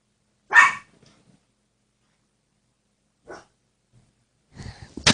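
A puppy in a quiet house lets out a single close, sharp bark, followed by long silence with a faint brief noise and then a short burst of sound at the end.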